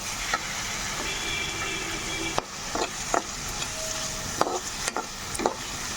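A spoon stirs methi, carrot and tomato rice in a pan for a kids' lunch box, with a steady soft sizzle and several scraping strokes and knocks against the pan close up.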